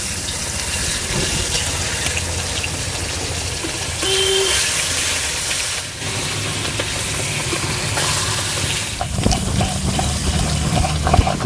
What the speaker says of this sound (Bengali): তেল গরম হয়ে গেছে দিয়ে দেবো মাছগুলো